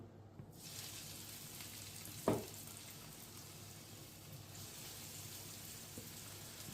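Food frying in hot oil gives a steady, faint hiss and crackle throughout, with one sharper splash or clunk near the middle.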